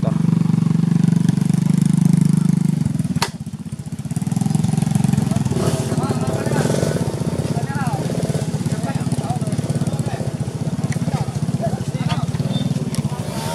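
A motorcycle engine runs steadily nearby, its loud low drone dipping briefly before resuming, with people talking over it at an outdoor riverside gathering.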